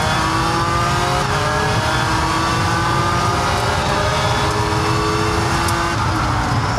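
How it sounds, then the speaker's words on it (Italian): Race cars at the 12 Hours of Spa-Francorchamps surge away on a restart, a dense, loud blend of engines revving and accelerating with overlapping pitch sweeps, sustained without pause and with no talk. "Dai Ste, un'altra partenza come ieri."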